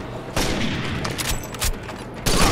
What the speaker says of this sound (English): Nice, the guy sniped you in the head.